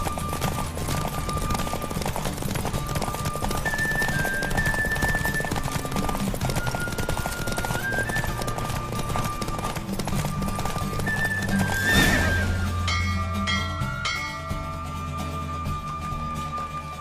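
Galloping hooves pound continuously as a horse races in The Witcher 3, backed by music, with a loud neigh near the middle before the pace eases.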